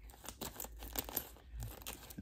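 A sealed plastic comic book bag is cut open, giving a run of crinkling, tearing plastic sounds with sharp bursts close by and no talk.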